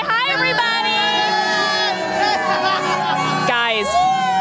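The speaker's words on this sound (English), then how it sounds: "Okay, y'all, we have a crowd. Say hi, everybody!" Crowd at San Antonio's Fiesta festival greeting reporters, a burst of overlapping voices, cheers and shouts from many people close by, some calls sounding sustained and sung out.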